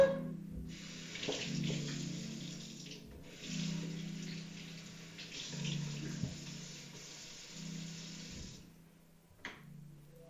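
Potatoes are rinsed under a running kitchen tap, the water flowing in several fairly quiet bursts separated by brief pauses, with no speech.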